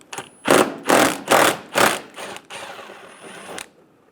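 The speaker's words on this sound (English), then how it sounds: "Remove the bolt." A ratchet wrench takes out a 10mm bolt from a bumper bracket on a 2005-2015 Toyota Tacoma, giving five loud, close bursts of clicking followed by a quieter, looser rattle as the bolt comes free.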